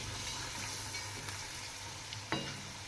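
Karchikai frying in hot oil, a steady dense sizzle with bubbling that holds at an even level throughout, broken only by a brief clatter near the end.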